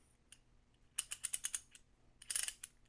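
A METMO Driver screwdriver part slides back onto its metal shaft, giving a quiet series of quick clicking, ratchet-like ticks in two short bursts with a pause between.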